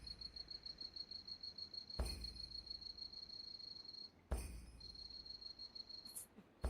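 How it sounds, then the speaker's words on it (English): Steady high-pitched cicada buzzing from a horror video game drones on with a rhythmic pulse, briefly interrupted twice by louder thumps, then resuming; alone without talk. "The cicadas outside chirp in the time with the bells"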